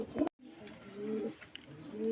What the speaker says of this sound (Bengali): আজকে কিছু গিরিবাজ লাইনে পায়রা দেখাবো খুব ভালো ভালো পায়রা